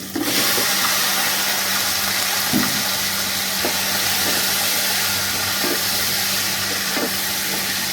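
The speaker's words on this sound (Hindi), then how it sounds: "चिकन को थोड़ी देर के लिए भूनेंगे।" Chicken fries in a pan with a loud, continuous sizzle and hiss, a few faint clinks of stirring scattered through.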